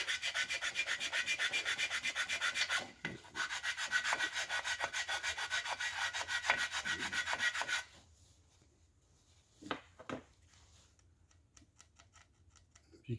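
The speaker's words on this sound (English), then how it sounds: "Take my stone, crisscross sand it." A sharpening stone rubbed in crisscross strokes across a small block Chevy engine main cap gives a steady, fast rhythmic rasping scrape that stops partway through. A few faint knocks and light scrapes follow, close and quiet.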